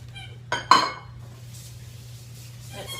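Chopped food lands in a cooking pot with two quick clattering knocks close by, then a low steady hum fills the quiet that follows.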